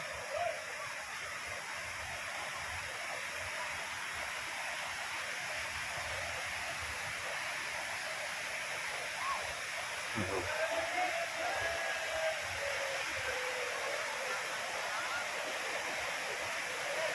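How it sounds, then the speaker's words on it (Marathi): A waterfall pours down with people bathing in the pool below it. Its roar is a steady, dense rush that fills the whole clip, with faint voices mixed into the constant spray. "हा धबधबा"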